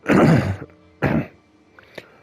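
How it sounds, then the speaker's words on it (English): A person coughs twice, a harsh close burst followed by a shorter second cough, with faint small noises afterward. "I've got a cough that I can't shift at the moment"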